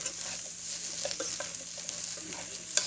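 Mushrooms and garlic frying in oil in a pan, a steady soft sizzle with occasional stirring clicks and scrapes, close and fairly quiet with no talking.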